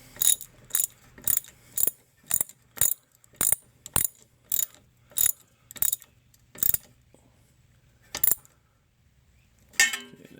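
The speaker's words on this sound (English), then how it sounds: "Okay, we'll go ahead and tighten that ABS up now." A ratchet wrench tightens the ABS sensor bolt on a 2000-2012 Hyundai Accent during a front wheel bearing job: a steady run of about a dozen sharp, close ratcheting clicks, a pause, then a final click or two.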